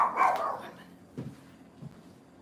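A dog barks outside the house, a loud burst at the start followed by two fainter, farther barks spaced apart.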